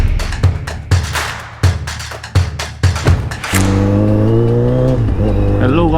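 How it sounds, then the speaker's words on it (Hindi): A Kawasaki Z900 motorcycle on the road blips its engine in a string of sharp revs, then settles into a loud sustained drone that climbs and wavers in pitch as it pulls away. "सिर्फ बाइक का साउंड और रोड हो"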